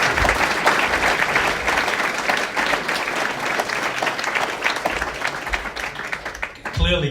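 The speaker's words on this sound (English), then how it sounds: "I think that too deserves a round of applause" An audience at a gala breaks into sustained applause, a dense, steady wash of clapping that carries on for several seconds, with a voice briefly emerging at the end.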